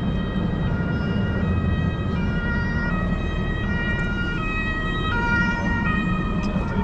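Police siren wailing in German road traffic, its rising and falling tones steady and fairly close over a constant rumble of engines and tyres, with no talk.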